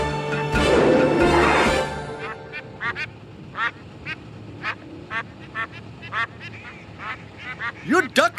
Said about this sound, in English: You ducks are really trying my patience. But you're so cute.